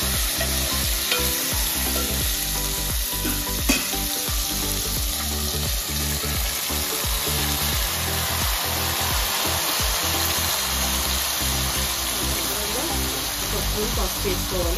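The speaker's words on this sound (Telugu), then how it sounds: "ఇప్పుడు మనం టమాటాలు యాడ్ చేస్తున్నాం." Tomatoes frying in a pan, a loud continuous close sizzle and crackle with stirring scrapes throughout, dense and steady with no pauses.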